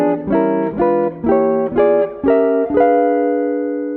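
Electric jazz guitar playing a series of block diminished chord shapes, each approached by a half step: about six plucked chords at an even pace, the last left ringing and fading, with no talking.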